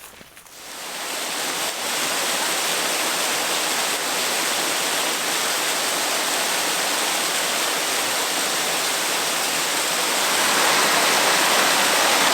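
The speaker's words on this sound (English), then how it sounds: "The series of waterfalls behind me here are known as Mossdale Head Falls." Mossdale Head Falls, a series of waterfalls on a stream in the Yorkshire Dales near Wensleydale, a loud, steady broadband rush of falling water that starts abruptly and continues unbroken, close by, with no voices.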